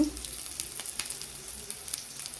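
Sliced okra sizzles steadily in hot oil in a pan already holding fried onions, with a continuous hiss and a few brief crackling pops throughout, heard up close and with no voices.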